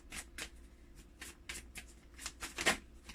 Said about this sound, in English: we're just going to shuffle up the deck